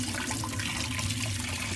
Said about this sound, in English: Now I'm putting it under the water again.